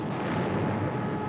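Anti-aircraft gunfire from a WW2 aircraft carrier under torpedo-plane attack, a dense, heavy rumbling burst of barrage fire in one short loud stretch.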